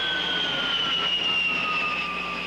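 Jet engine whine from an A-10 tank buster aircraft, a loud sustained high-pitched whistle over a steady roar, slowly descending in pitch.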